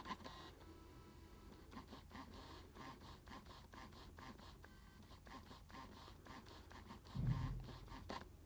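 A Fuji GFX 50S II medium format camera hunts for focus with a fast, rattly mechanical chatter, a dense series of ticks like an old fax or receipt printer, and a brief louder rumble near the end.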